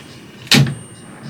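A heavy camper van door on a 4x4 truck is pulled open, tearing off its magnetic catch, giving one sharp loud clack that decays quickly, followed by a faint second knock.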